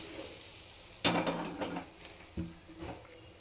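A boiled-egg omelette is slid from a pan onto a plate, with a few close scraping strokes and metallic clinks of utensil against pan, moderately loud in a quiet kitchen.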